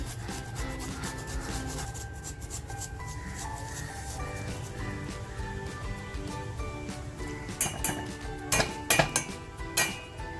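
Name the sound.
grating ginger for masala tea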